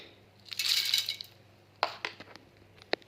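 Coriander seeds go in with a spoon for a fish curry, a quick rattling pour followed by a few sharp clinks of spoon on a dish, close and fairly quiet.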